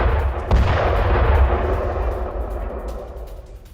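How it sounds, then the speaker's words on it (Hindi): A Russian air strike on a Ukrainian military base in Dnipro: a sudden heavy blast early on, then a long, loud rumbling roar that slowly fades, with no talk. "अब निप्रो में रूस के हवाई हमले की एक तस्वीर देखिएगा"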